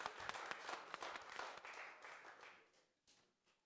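Audience applause at a car premiere event for the Aiways U6ion, a burst of fairly faint, distant clapping that fades away over a few seconds.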